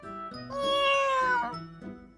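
A single drawn-out black cat meow, rising then falling in pitch, close and clear, with a softer short mew trailing at the end.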